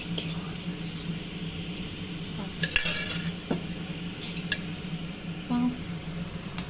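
Boiled peas tipped into a pan while cooking paneer biryani, giving scattered light metallic clinks and scrapes of a utensil against the pan over a steady low hum, with a person talking throughout.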